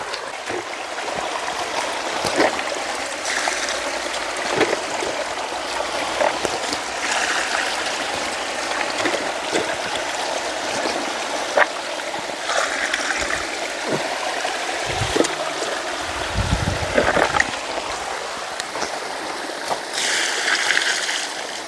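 Water flowing steadily into garden furrows on a plot of land, a continuous close babbling trickle with small splashes, no talk.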